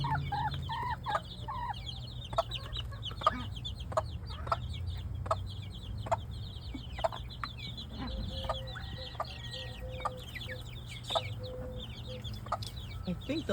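A mother hen with her nine chicks on a small backyard flock clucks in low, repeated calls while the chicks peep in high, rapid bursts all around, close and continuous.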